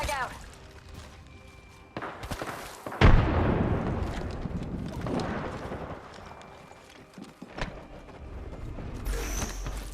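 A frag grenade in the shooter game Apex Legends bursts with a sudden heavy boom and a rumbling tail, set among other game effects and busy in-game sound, with voices talking throughout.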